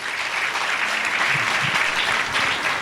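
A church congregation claps loudly and steadily through a Holy Communion Sunday service, a dense, continuous wash of applause from the crowd with no speech on top.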